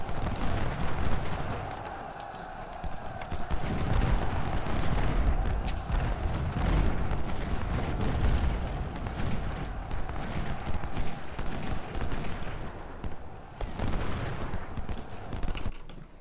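Cannon fire from the Civil War strategy game Ultimate General: Civil War, on a Confederate battle at Everettsville: a continuous rumble of booming artillery and crackling musketry rolls on without pause, moderately loud, with no talk over it.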